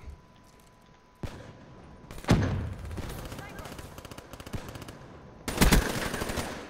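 Automatic gunfire in Black Ops 3, the online shooter, with sharp bursts of rapid shots at intervals between quieter stretches and a player's talk underneath.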